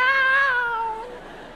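A comedian imitates a cat's meow during a live stand-up show, a single drawn-out falling tone, close and clear, fading at the end.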